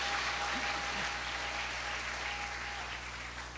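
Crowd cheering and applauding at a gathering, a steady wash of clapping and voices that stays loud and dense throughout, with a faint sustained tone running underneath.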